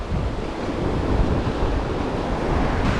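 Ocean waves roll onto a tropical beach in a loud, steady roar of surf, with gusty wind buffeting the microphone throughout.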